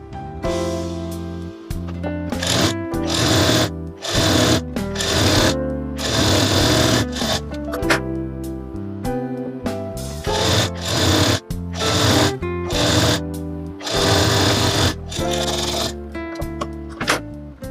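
A sewing machine stitches a wrap blouse with butterfly sleeves, its motor running in loud, steady bursts of fast mechanical whirring separated by brief pauses, close up and alone without talk.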